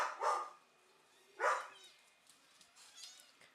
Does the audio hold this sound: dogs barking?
yes